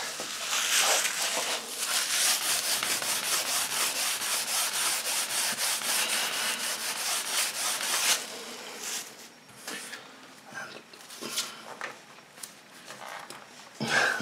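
A Lie-Nielsen No 66 hand scraping tool drawn over wood to lift shavings, giving close, rhythmic rasping strokes, dense and continuous at first, then separate, irregular scrapes with short pauses between them.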